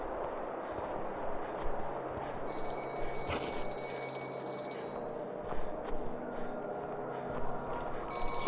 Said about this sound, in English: there's a church with a phone.